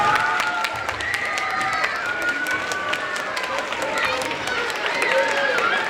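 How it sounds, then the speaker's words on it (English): Audience applause at a Franklin School performance by the Shoe String Players in Saddle Brook, steady crowd clapping with scattered sharp claps and cheers, while voices carry over it throughout. "Let's give a big round of applause for all of us."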